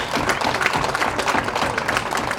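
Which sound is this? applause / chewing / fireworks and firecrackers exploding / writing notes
applause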